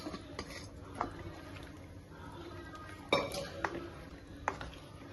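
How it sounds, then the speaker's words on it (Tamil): Cooked lentils and tomatoes are poured into a cooking pot for spring onion sambar, making a soft wet slosh with scattered light metallic clinks from the vessels, fairly faint and close. "நான் இந்த டைம் பருப்பு தக்காளி எல்லாம் வேக வச்சதை ஊத்திக்க போறேன்"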